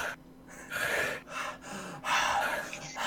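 A cat breathes heavily in loud, rough gasps and snorting breaths, two long surges with quieter pauses between, close and without talk.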